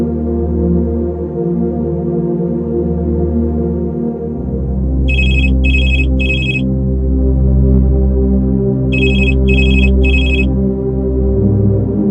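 A telephone rings in a drama scene: two sets of three bright electronic rings in quick succession, loud and clear over a steady droning music bed, with no talking.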